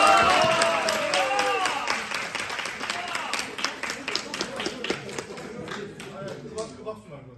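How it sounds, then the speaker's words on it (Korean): Clapping from a small group gathered at a judo gym, starting strong, then thinning into scattered, uneven claps that trail off toward the end, with a voice briefly heard near the start. "처음 보고 한번 박수 주시게."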